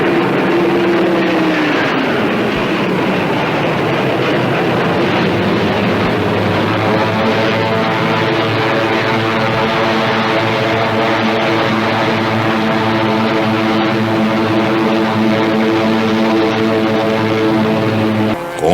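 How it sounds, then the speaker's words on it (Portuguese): Second World War Hurricane and Spitfire propeller fighters fly overhead, a loud, steady engine drone that rises in pitch early and then holds a continuous harmonic roar for the full length with no voices. "5 esquadrilhas de Hurricanes e Spitfires se apresentaram e tomaram os céus"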